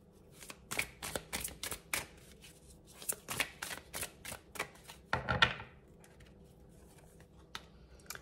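Tarot cards are shuffled and drawn by hand in a quiet room, with a series of crisp riffling and snapping bursts and a few louder flicks.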